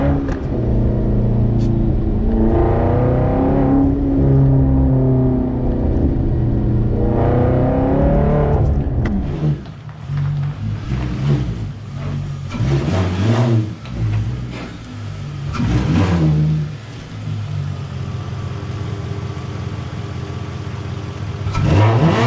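A straight-piped Volkswagen W8 exhaust revving loudly and close, rising and falling engine notes with harsh raspy bursts and several sharp throttle blips, no talking.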